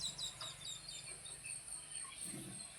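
Chickens cluck and call softly inside a farm shed, scattered faint bird sounds over a quiet background with insects, no talking.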